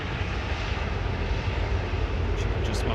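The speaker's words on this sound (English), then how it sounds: "we've got 2 taxiing out. The PIA 777 and the Ethiopian A350-900." Two widebody airliners, a PIA Boeing 777 and an Ethiopian Airlines Airbus A350-900, taxi at Manchester Airport, giving a steady, loud, unbroken engine roar and rumble that holds level throughout.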